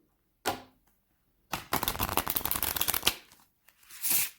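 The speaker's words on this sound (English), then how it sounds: "Last shuffle." Cards riffle and snap together in a quick shuffle, with a short flick before and a soft bridging rustle after; close and crisp.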